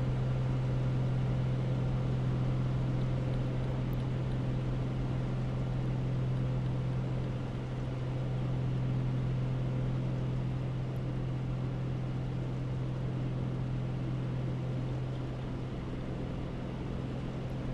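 A steady PA-24 Comanche propeller engine in a flight simulator game drones continuously at an even pitch, loud and unchanging throughout, with no voices.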